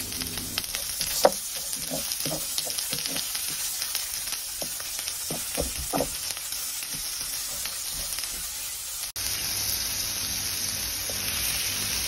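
Garlic and onion frying in a pan, a steady close sizzle and crackle with scattered pops, cooking for a sauteed bottle gourd dish with sardines.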